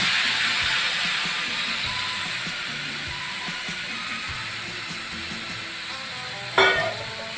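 Marinated bottle gourd (chalkumro) sizzles steadily in a hot wok, a broad, even frying hiss that stays loud throughout, with a brief sharper burst of sizzle near the end as more is poured in; no voices.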